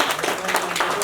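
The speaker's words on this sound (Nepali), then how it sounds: "हामी सबैले उहाँलाई एकपटक ताली बजाएर अभिनन्दन गर्नको लागि पनि लाग्यो" Audience applause at a Nepali public gathering: a brief, dense wash of many hands clapping, steady and fairly loud throughout.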